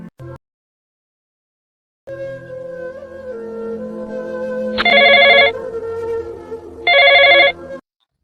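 A telephone rings loud and close indoors, a sustained electronic tone pattern with two brighter, higher bursts near the end, after a short silence at the start.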